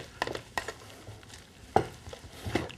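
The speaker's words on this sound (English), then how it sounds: "Give the veggies one last stir." Roasting vegetables stirred in a pan beside a lamb roast, several distinct scraping and clattering strokes of a utensil against metal, close and irregular with quiet gaps between.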